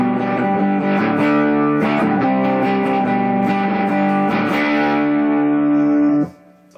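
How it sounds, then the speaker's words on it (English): An electric guitar plays through the Raw Squid distortion pedal at full volume, a loud, thick, sludgy sustained chord ringing for about six seconds before cutting off abruptly. "That's about it. The raw Squid Distortion."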